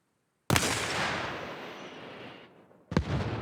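An RPG launcher in Arma Reforger fires a warhead with a sharp, loud blast that rolls into a long, fading roar, followed near the end by a second distant-sounding boom as the round impacts.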